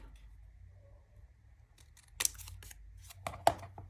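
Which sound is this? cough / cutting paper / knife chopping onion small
cutting paper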